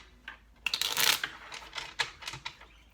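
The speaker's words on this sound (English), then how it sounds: "Last shuffle." Tarot cards riffle and slap together in a quick shuffle, a crisp burst followed by several softer flicks and taps, close and fairly quiet with no talk.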